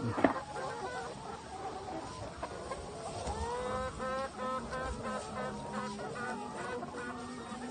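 A flock of hens basking in the sun beside a small pond clucks and cackles continuously, several birds overlapping at close range with steady chatter and occasional louder calls.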